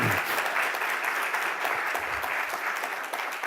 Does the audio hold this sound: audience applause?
yes